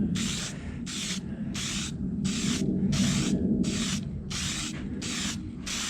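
Aerosol spray paint hisses onto a BMW HP2 motorcycle part in about ten short, evenly spaced bursts, each lasting roughly a third of a second, close and steady, with a low background rumble running underneath.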